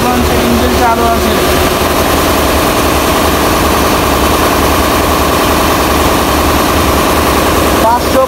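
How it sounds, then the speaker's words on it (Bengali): A passenger launch's engine, one of two rated at about 550 horsepower, runs at a loud, steady, close drone with a low throbbing rumble that never lets up, and voices are faintly heard over it. "তো দুলিয়াক লঞ্চের ইঞ্জিন চালু আছে"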